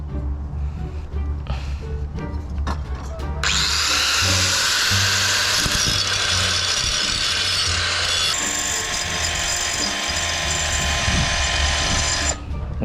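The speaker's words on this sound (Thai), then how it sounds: "มันเจาะไม่ออกอะต้องเจียก่อน" An angle grinder cuts into a motorcycle exhaust pipe, a loud, harsh, sustained whine that starts after a few seconds of quieter handling noises and runs almost to the end with a brief drop in pitch midway.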